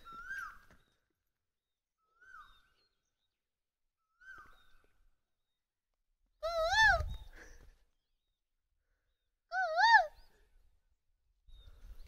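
A koel calls repeatedly in a hill village: several faint, distant rising calls, then two much louder, closer harmonic calls that sound like a person imitating the bird.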